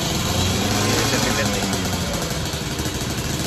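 Six two-stroke motorcycles idle together before a group ride from Makassar, producing a dense, steady, rough engine drone without breaks.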